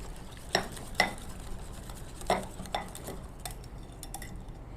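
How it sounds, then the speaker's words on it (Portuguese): A utensil stirs melted chocolate and coconut milk ganache in a bowl, giving a handful of sharp clinks and scrapes at irregular intervals over a soft, steady background, with no voices. "Vamos mexer bem, misturar até ficar tudo bem uniforme."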